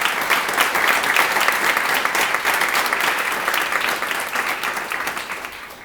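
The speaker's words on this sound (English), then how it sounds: "A round of applause." A room full of people applauds steadily, dense clapping that gradually tapers off near the end.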